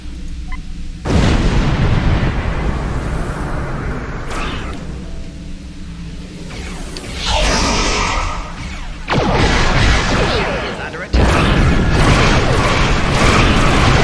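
A large Morcha ship blowing up in Star Trek Online, a series of heavy, loud explosions and booming blasts rolling one after another across space combat, with deep rumbling between the bursts.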